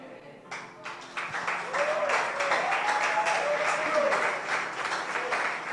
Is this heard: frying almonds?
no